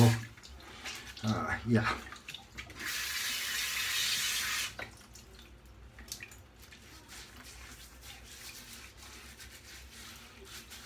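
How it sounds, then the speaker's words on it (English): Tap water runs steadily into a sink for a couple of seconds while a washcloth is wetted to dampen a face, followed by quieter drips and handling; someone speaks briefly before and after. "let me wet the face. I'm gonna use this washcloth"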